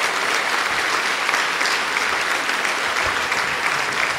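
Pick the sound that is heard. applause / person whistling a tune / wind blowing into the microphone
applause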